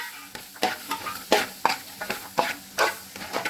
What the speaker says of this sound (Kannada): ಈಗ ಫ್ರೈ ಮಾಡಿಟ್ಟು ಸೋಯಾವನ್ನು ಹಾಕ್ತಾಯಿದ್ದೀನಿ ನಾನು